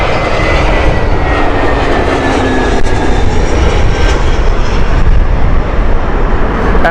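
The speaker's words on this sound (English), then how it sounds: "operated by the Airbus A320 from British Airways" A British Airways Airbus A320 on the Belfast flight at Heathrow produces a loud, sustained jet engine roar with gliding whine tones, close and continuous, with no talking.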